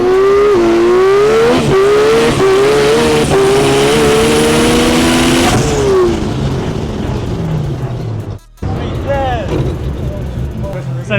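Rear-wheel drive race cars doing burnouts at a Queensland roll racing event, a loud, sustained engine roar with revving pitch changes and screeching tyres, close by, with a brief drop near the end.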